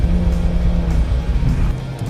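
A Suzuki Swift hatchback driving through corners, its engine a steady loud drone with a sustained low hum and slight variation in pitch, heard close with no voices.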